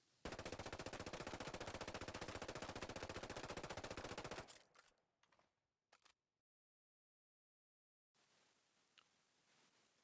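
A P90 submachine gun fires a long, rapid, unbroken automatic burst in Ghost Recon Breakpoint, loud and close, then cuts off into a few faint clicks, silence and quiet room noise.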